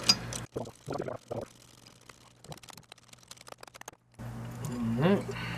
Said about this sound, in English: So I'm going to go with the 10 millimeter down here on the bottom one, and I got a wobbly socket on it.